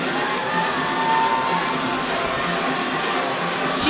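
Crowd cheering at an indoor track meet during a girls' 5000 m race at New Balance Nationals Indoor, a steady, dense roar of many voices that holds for the whole stretch with slight swells.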